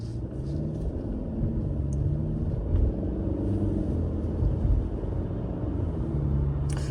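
Steady low motor rumble from inside a moving Tesla at night, continuous and fairly loud throughout with no talking.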